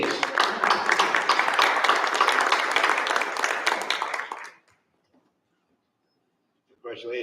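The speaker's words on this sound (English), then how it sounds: "Another round of applause, please." A second round of applause at a school board of education meeting, steady crowd clapping for about four seconds that stops abruptly into silence before a voice begins speaking.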